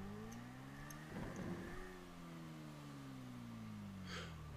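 A car in GTA 5 accelerates with a rising engine whine whose pitch climbs and then shifts as the revs change, steady and fairly close.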